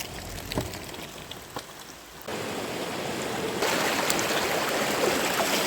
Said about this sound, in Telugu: వర్షం కూడా ఒకవైపు చితగొట్టేస్తుంది.